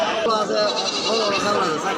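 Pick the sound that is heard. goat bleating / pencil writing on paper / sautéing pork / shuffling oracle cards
goat bleating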